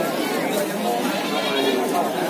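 Goats bleat repeatedly amid a dense crowd at a livestock market in Jatinom, Klaten, where the animals are pregnant and young does, their cries rising over constant chatter and bustle.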